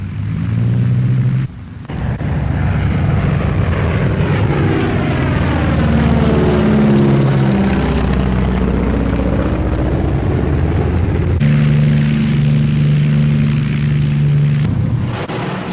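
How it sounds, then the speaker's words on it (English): Avro Lancaster bomber engines drone loudly and steadily in flight, a heavy propeller roar with shifting harmonic beats that swell and fade, continuous throughout with no voices. "as our Lancaster takes to its element"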